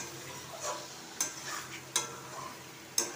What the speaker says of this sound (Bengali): আর এই যে এদিকে মাছের মশলা কষছে, দেখো পাশ থেকে তেল ছেড়েছে।